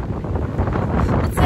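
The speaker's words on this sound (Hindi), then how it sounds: "बहुत तेज़ हवा चल रही है" Strong, cold gusty wind in Canada blasts into the microphone, a loud continuous rumbling buffet with no pause.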